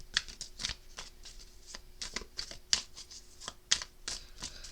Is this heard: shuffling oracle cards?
yes